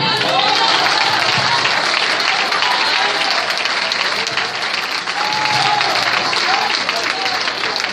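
A church congregation at a Hialeah conference gives sustained, loud applause. The dense clapping fills the space for the whole stretch, with some voices mixed into the crowd.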